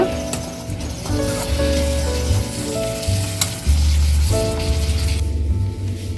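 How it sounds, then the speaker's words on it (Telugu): Soaked cashews fry in oil in a pan for paneer butter masala, a loud, steady sizzle with occasional stirring scrapes and bursts of spattering. "ఇవి కూడా బాగా మంచిగా ఫ్రై అయ్యి మెత్తగా అయిపోయినాయంట"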